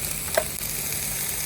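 Turmeric-dusted drumstick leaves sizzle in a pan, a steady moderate frying hiss with a single faint tick partway through.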